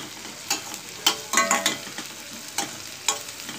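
Curry leaves sizzle in hot oil in a pan for an okra curry while a spoon scrapes and stirs them, giving several sharp clinks and scrapes over a steady frying hiss.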